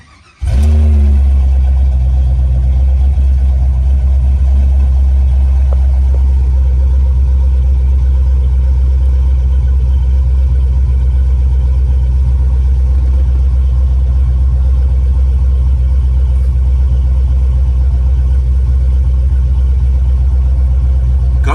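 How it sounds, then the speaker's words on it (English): An LS-swapped Box Chevy V8 idles at a traffic light with a choppy cam, giving a loud, close, continuous low rumble that holds steady throughout. "Box Chevy at the light, cam chopping, don't you try it."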